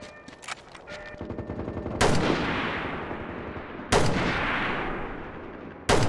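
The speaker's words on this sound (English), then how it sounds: "He got sniped with a 50 I heard it go off and it hit him." A video game firefight with several loud, sharp gunshot cracks from a .50 caliber sniper rifle, each followed by a long decaying echo, set against scattered quieter gunfire.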